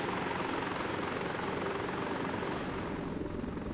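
A helicopter flies steadily in Arma 3, its rotor and engine producing a constant, even drone with no talking over it.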